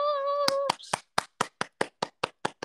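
Hand clapping during a Valentine's Day live stream: a voice sings or hums at first, then roughly nine sharp, evenly spaced claps follow close to the microphone with silence between them.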